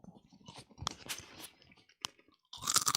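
A person bites into and chews a crunchy snack, giving close, irregular crisp crunches with short pauses and a loud burst of crunching near the end.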